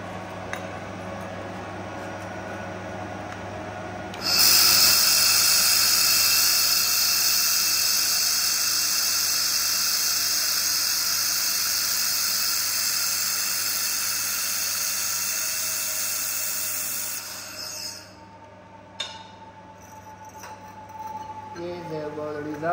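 A 2500W portable laser welder runs in a steady, loud, high-pitched hiss for about thirteen seconds, then cuts off and leaves faint clinks and quiet room noise behind.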